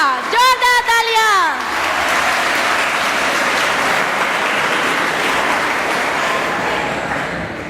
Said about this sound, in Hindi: तो जोरदार तालियों के स्वागत करेंगे पुनीत पांचाल जी का।